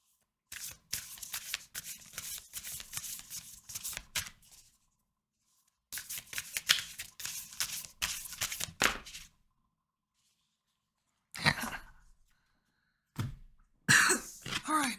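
Oracle cards being shuffled by hand in a run of quick crisp riffling bursts, a long stretch, a pause, then another long stretch, followed by a few short separate flicks and snaps near the end.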